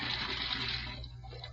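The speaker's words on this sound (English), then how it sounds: "I let the water run for a minute" Tap water runs steadily into a sink in an old radio drama, a continuous hissing rush with a low hum underneath that thins out toward the end, with no voices.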